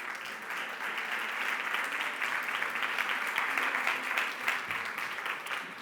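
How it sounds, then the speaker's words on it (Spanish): A conference audience applauds a speaker named Blanca, a steady, even wash of many hands clapping at moderate distance, sustained throughout without a break. "Un aplauso para Blanca"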